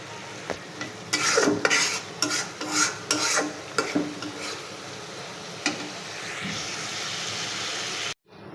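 Dried fish frying in a pan as it cooks down while a spatula stirs and scrapes, with bursts of clattering strokes early on, then a steady sizzle continuing alone.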